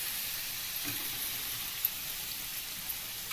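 Moth bean dal frying in a pan gives a steady, even sizzle that hisses softly throughout, with a faint stir or two barely standing out above the constant crackle.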